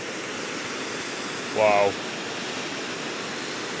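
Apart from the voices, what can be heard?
waterfall on a Victorian royal estate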